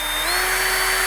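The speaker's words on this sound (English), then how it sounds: "drilling into that surface to create a socket for the" A power drill whines steadily at close range, boring gently into a historic stone surface to make a socket for a wire during traditional masonry repair, one continuous loud burst with no pauses.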